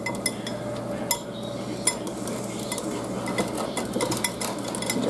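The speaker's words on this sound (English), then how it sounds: "you want to whisk while you add that in there" A whisk clinks and scrapes rapidly against a bowl as a hot lemon pie filling mixture is poured into eggs, making a continuous busy rattle with a few louder taps.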